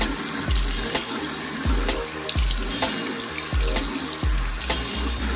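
Tap water runs into a sink while a reborn baby doll's hair is rinsed, a loud, close, continuous gush with rhythmic heavier splashes as water is scooped and poured from a small cup.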